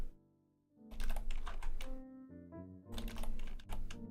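Clicky keystrokes on a computer keyboard come in two quick bursts of rapid typing separated by a pause, close and fairly quiet, with a low background hum underneath.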